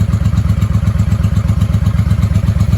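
A 1995 Honda Shadow VLX VT600CD motorcycle engine idles close by, a loud, steady rapid chugging pulse throughout.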